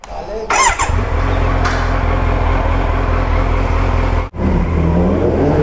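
A 2024 Kawasaki Z900 motorcycle pulls away after its first service, its engine loud and close with a steady low drone, a rising whine early on and a brief dip near the end.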